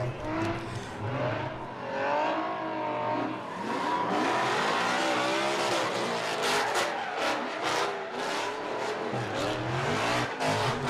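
Mustang drift car, the Bright Slide Mustang, at Irwindale Speedway, its engine revving loud and close with rising and falling pitch, sustained over about eleven seconds with possible tire squeal mixed in and no talk.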